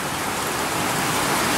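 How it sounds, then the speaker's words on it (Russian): Heavy rain falling in a dense, unbroken hiss, loud and constant throughout, with no voices or other sounds. "Ох, и дождь какой сильный у нас вообще."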